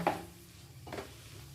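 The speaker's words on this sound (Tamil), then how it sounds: "அப்படியே கிளறி அப்படியே மூடி ரெடி ஆயிடுங்க" Cooked rice for Indian gooseberry rice is stirred in a pan with a utensil, making two short scraping, clattering strokes against the metal separated by a brief pause, close by and with nobody speaking.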